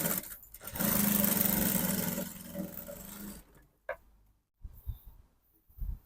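A sewing machine stitching darts in a lace dress runs with a steady close whir for about two seconds and then stops, followed by a few soft handling clicks and rustles.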